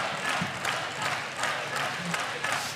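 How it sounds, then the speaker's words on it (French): Audience applause from a crowd at a Comic-Con 2011 event, a steady wash of clapping that runs for a few seconds and mixes with a host's voice. "On peut applaudir, mesdames et messieurs, très fort."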